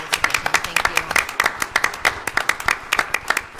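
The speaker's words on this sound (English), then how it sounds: "we give you a round of applause" Applause at a school board meeting honoring a school division leader: a round of rapid, crisp hand clapping from a room of people, steady and fairly close for several seconds.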